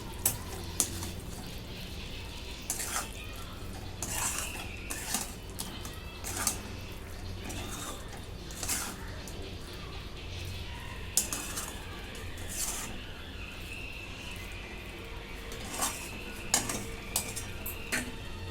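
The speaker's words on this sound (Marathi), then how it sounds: "शेंगदाण्याचं कूट आणि आता हे सर्व मिक्स करून घेतो" Crushed peanuts, salt and other ingredients for a bitter gourd dish being mixed in a bowl, with repeated light clinks and scrapes of a metal spoon against the vessel over a quiet, steady background.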